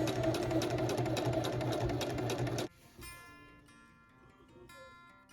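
A sewing machine runs steadily while top stitching the back pockets of jeans, a loud continuous mechanical whir lasting about two and a half seconds before it stops abruptly, leaving quieter rustling and faint room noise.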